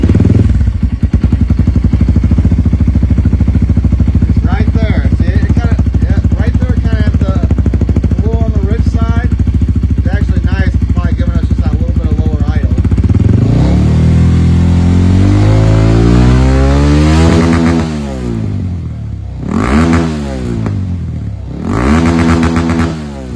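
A Kawasaki KLX230 dirt bike fitted with an aftermarket ECU tuner idles loudly up close, then revs repeatedly in rising and falling bursts, with a voice speaking briefly over the engine.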